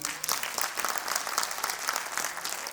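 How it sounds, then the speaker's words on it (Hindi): An audience at a celebration event breaks into loud, dense applause, many hands clapping steadily and close for the whole short stretch. "उनके लिए एक जोरदार ताली चाहेंगे।"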